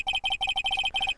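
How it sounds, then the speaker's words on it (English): A phone ringtone from the Phoenix Wright Ace Attorney video game: a loud, fast electronic warble of quick paired beeps repeating in a tight rhythm, with nothing else heard. "I heard a phone ring just now."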